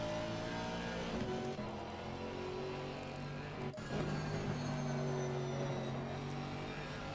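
Aston Martin GT4 race car in Assetto Corsa Competizione, its engine droning with harmonic tones that climb and drop through gear changes, steady and moderately loud with a brief dip midway, no voices.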